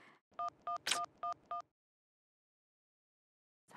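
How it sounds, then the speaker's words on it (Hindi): A phone is dialed, with a quick run of evenly spaced keypad tones and a sharper click in the middle, then silence as the call goes unanswered, with a faint sound returning at the very end. "क्या हो गया विभू, फोन नहीं उठा रहा है मेरा, हद हो गई।"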